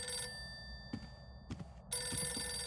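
Electronic telephone ring from the 2010 PC game Alter Ego, one burst cut off, a pause with a few soft thuds, then another ring starting, no speech.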